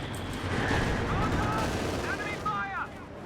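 A USF mortar half-track fires in a video game: a dense burst of gunfire and explosive booms over continuous battle noise, with whistling shells near the end.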